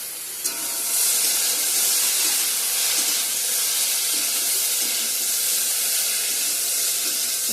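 Pieces of taro (kochu) frying in hot oil, giving a steady, dense sizzling hiss that holds nearly unchanged from start to finish, close and fairly loud.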